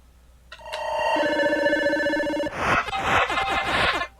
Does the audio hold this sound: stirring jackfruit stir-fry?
no